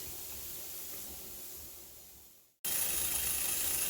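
A pressure canner full of chicken vents steam in a steady hiss that fades away, then after a brief silent gap a louder, sharper hiss bursts out and holds.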